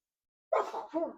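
A single sharp sneeze bursts out of silence, close and fairly loud, followed by a brief trailing exhale.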